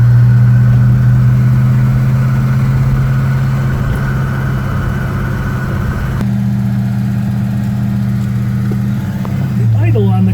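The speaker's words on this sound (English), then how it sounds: "The idle on the car is kicked up a little high." A 1967 Pontiac GTO with a four-speed idles a little high, a steady low rumbling hum close by with a slight change in tone partway through while someone talks over it.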